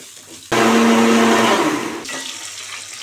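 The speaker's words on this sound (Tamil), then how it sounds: "இதெல்லாம் நம்ம அரைச்சி எடுத்துக்கலாம் சாம்பாருக்கு." A kitchen mixer grinder whirs on abruptly and loudly, grinding sambar ingredients including a piece of coconut, then its pitch drops partway through as it keeps running.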